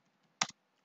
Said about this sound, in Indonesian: Jadi kita harus mengetik tulisan ini.